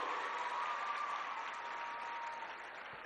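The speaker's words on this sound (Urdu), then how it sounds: "بڑی اچھی تالیاں بجا رہے ہو, ویری نائس" Schoolchildren clap together in a dense, steady burst of applause that fills the room from start to finish without letup.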